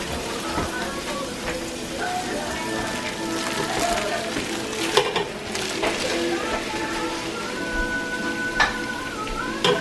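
Ground meat hisses and sizzles steadily in a hot pan with softened onions and garlic, a continuous crackling fry broken by occasional scraping clicks of a utensil breaking the meat apart, with a voice speaking intermittently.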